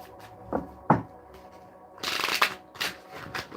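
Success cards for a tarot-style reading are shuffled by hand, with short riffling bursts and soft flicks of the deck, close and fairly quiet, no talking.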